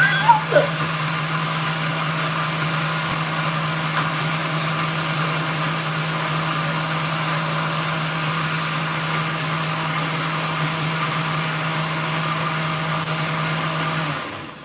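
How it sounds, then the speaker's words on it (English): A kitchen blender whirs steadily at full speed blending a banana blueberry smoothie, a loud continuous motor drone with a steady hum that runs for the whole stretch before cutting off. "without the annoyance of having to run the blender"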